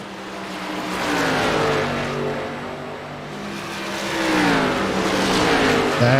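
Race cars circling Nashville Superspeedway late in an FLRL round-of-8 race, several engines droning and rising in pitch as they pass, a continuous loud roar with overlapping Doppler sweeps.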